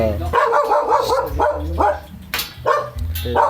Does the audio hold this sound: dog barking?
yes